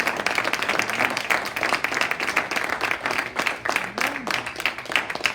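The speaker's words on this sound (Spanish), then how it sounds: "Alguien denle un aplauso al Señor." A church congregation applauds during a sermon, with uneven, rhythmic clapping from a moderate crowd rising and falling, along with a few scattered voices and cheers.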